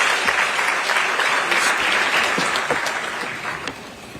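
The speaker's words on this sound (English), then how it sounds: "Another hand of applause, please." Conference audience at an annual internal audit event applauds steadily, with dense clapping and a few sharper individual claps, fading slightly toward the end.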